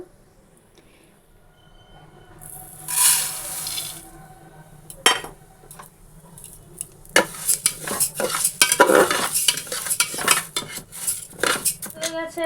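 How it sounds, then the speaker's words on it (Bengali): Lentils for dal are fried in a pot, then water is added and stirred in. A brief hiss and splash are followed by busy clattering, scraping and metallic stirring strokes, close by, with no talk. "তো চলো, ডালটা ভেজে একেবারে জল দিয়ে বসিয়ে দেই।"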